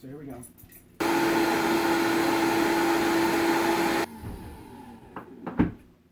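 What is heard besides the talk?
high-speed blender running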